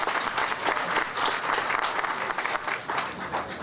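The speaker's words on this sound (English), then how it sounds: "Let's give them a applause" Crowd at a civic community investment event applauds foundation and corporate donors, a full steady burst of many hands clapping, fairly loud and continuous throughout.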